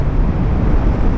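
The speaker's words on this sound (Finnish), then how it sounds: "Hirveä tuuli ja kylmä." Loud, blustery, cold wind on an icy road roars and buffets the microphone in a constant low rumble.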